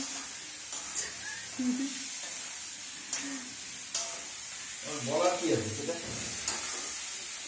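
Food fries in a pan during home cooking, a steady soft sizzle with occasional hissing bursts and stirring, while voices talk nearby.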